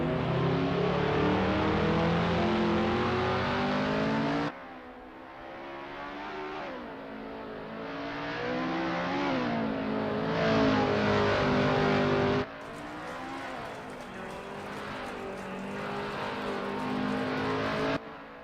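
A 1967-era McLaren M5 Grand Prix race car in the Assetto Corsa racing game, its engine howling loudly and steadily through long revving pulls with gear changes and abrupt cuts in tone, no voices over it.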